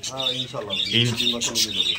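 Pigeons at a pigeon farm, including an Indonesian breeding pair, give short squawking coos and chirps close by, heard under a voice.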